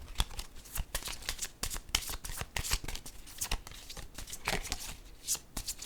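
Cards being shuffled and handled during a pink-card reading, a quiet series of crisp riffling and flicking bursts repeating irregularly, close by with no talk.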